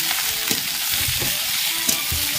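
Chicken and onions fry in a pan with a steady, close, broadband sizzle, broken by a few soft stirring knocks, and no one speaks.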